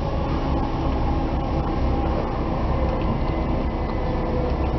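A four-coach passenger train runs through a tunnel on the approach to Dawlish, heard from inside as a loud, steady rumbling roar with a constant mechanical rattle, close and unbroken throughout, no voices.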